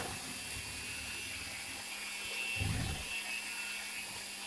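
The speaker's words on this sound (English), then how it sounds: "I use a mixer at a low speed," An electric mixer runs at low speed through cake batter for a white cherry cake, giving a steady mechanical whir and hum with a slight swell partway through, heard alone at moderate volume.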